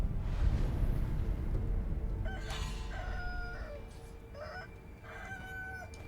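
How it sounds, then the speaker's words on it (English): Rooster enemies in Sekiro: Shadows Die Twice crow several times in short, repeated calls, moderately close and fairly loud, over a steady low rumble of game ambience. "Oh, the roosters. I forgot those enemies like existed."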